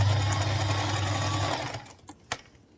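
A sewing machine stitching a trouser seam whirs steadily for about a second and a half, then stops, followed by a few faint clicks and a sharp tap.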